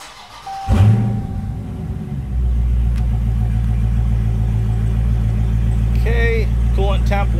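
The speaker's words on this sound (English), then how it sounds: "now let's go ahead and start the car back up" A 392 V8 cranks briefly and fires, settling into a deep, steady idle rumble that continues close and loud, with a short burst of voices near the end.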